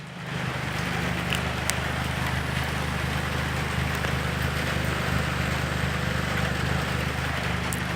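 A Toyota 1.8 litre 2ZZ-GE VVTL-i engine in a Fielder Z Aerotourer idles with its muffler unbolted, a steady, fairly quiet low hum with a constant hiss over it.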